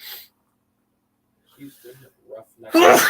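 A man sneezes once, loud and close, right after a few spoken words during casual commentary on an NFL game between the Indianapolis Colts and Jacksonville Jaguars.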